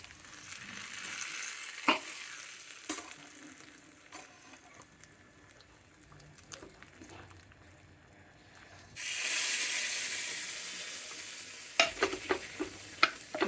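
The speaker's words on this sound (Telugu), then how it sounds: "స్టవ్ కట్టేసి తాళింపు పెట్టాడు." Tempering in hot oil for palak dal (spinach lentils), a quiet background of stirring and handling that bursts into a loud hissing sizzle for several seconds near the end, followed by a few clinks.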